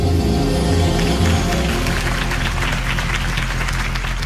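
A crowd in the Batman Telltale Series game applauds a campaign speech for Harvey Dent, with dense, sustained clapping from many hands that stays loud and steady, over a low musical hum.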